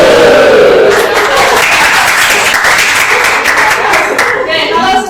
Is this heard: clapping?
yes